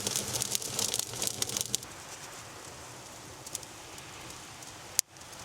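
A crackling beach bonfire close by gives dense, steady popping and hissing, busiest in the first two seconds and then settling into a softer continuous crackle with one sharp snap near the end.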